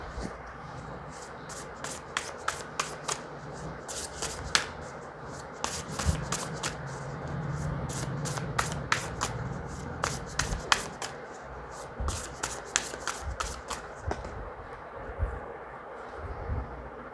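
Tarot cards are shuffled and drawn close up, with a long series of quick papery flicks and riffles coming in bursts over a faint background hum.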